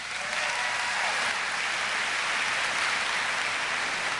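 Audience at a political speaking event giving a weak, half-hearted round of applause, a thin, even patter of scattered clapping that continues steadily at moderate distance for about four seconds.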